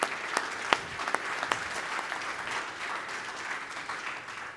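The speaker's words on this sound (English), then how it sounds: "I think you deserve another round of applause" After an expert lecture by Professor Alan Guthrie, the audience gives him a round of applause: a few sharp individual claps at first, then a steady, moderately quiet wash of clapping from a room of people.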